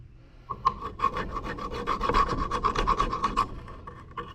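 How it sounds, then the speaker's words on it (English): A metal file rasps rust out of the corner of a brake caliper bracket during a budget brake job, giving a steady run of quick, close scraping strokes with a gritty texture, with no talk over it. "take the corner of my file, and I stick it in the corner"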